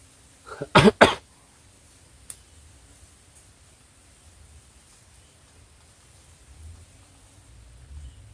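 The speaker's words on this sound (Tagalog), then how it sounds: "Ang lakas yung ubo niya." Two or three harsh, loud coughs from an old man in quick succession close to the microphone, then quiet background hiss with a faint sound or two.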